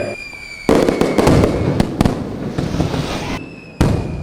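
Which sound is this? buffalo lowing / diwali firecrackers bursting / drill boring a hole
diwali firecrackers bursting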